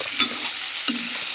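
Pork frying in a bent kadai (wok) with sour ou tenga fruit, stirred in two brief scraping bursts over a steady low sizzle, close and fairly quiet with no talk.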